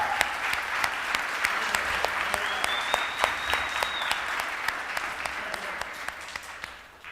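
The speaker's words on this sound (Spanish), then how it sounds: "¿Cuántos le dan un aplauso al Señor?" A church congregation applauds together with dense, steady clapping that fills the space, holding strong before gradually thinning toward the end, with a faint voice or tone briefly rising above it.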